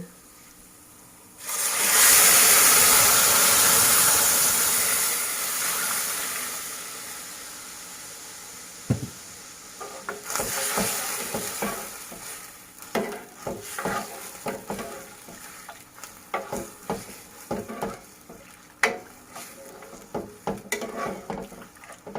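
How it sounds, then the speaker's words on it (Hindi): Milk poured into fried vermicelli in a hot pan sets off a loud rushing hiss that fades, followed by bubbling and scattered spoon clinks against the pan. "अब इसमें हम दूध डालेंगे"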